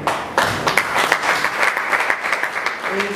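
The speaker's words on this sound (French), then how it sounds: "ça mérite un applaudissement, s'il vous plaît" A general assembly audience in Sikasso breaks into applause, a burst of many hands clapping that starts abruptly and holds steady and fairly loud for a few seconds.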